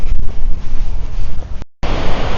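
Strong wind roars across open water near a glacier in Iceland, loud buffeting gusts with spray and rushing water, briefly cut off before surging back.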